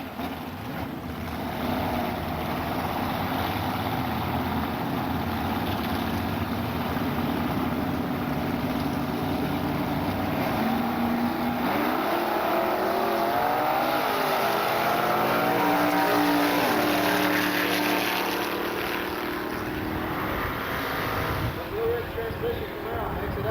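Race cars on a drag strip, among them a Camaro, produce a loud, continuous engine roar with a rising whine as a car launches and pulls away, and the sound swells in the middle before easing off.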